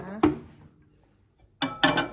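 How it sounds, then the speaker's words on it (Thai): A covered dish of sticky rice set into a microwave: one sharp clunk of the dish, a quiet pause, then two closer knocks and clatters as it is placed and the lid or door handled. "ทีนี้เราก็เอาเข้าไมโครเวฟเลยนะคะ"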